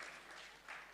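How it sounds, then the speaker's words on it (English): Applause from an audience at a maritime conference panel session, a faint, steady wash of clapping lasting about a second with no voices. "the panel deserves a round of applause"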